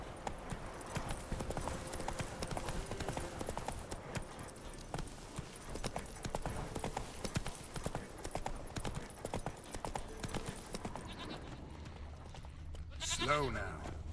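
Roach, a horse in The Witcher 3, trots in a steady, rhythmic run of hoof clip-clops, fairly faint, with a voice speaking near the end.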